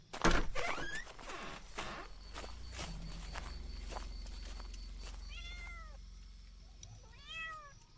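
A woman's footsteps pacing outside a washroom, sounding as soft repeated steps at a steady walking pace, with a loud knock at the start and a cat meowing several times toward the end.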